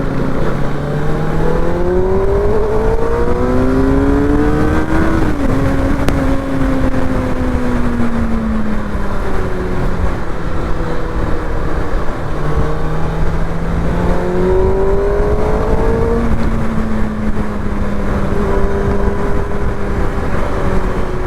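A powerful vehicle engine drives hard and close, its revs climbing, dropping and climbing again in long swells over a constant loud roar, with no voices.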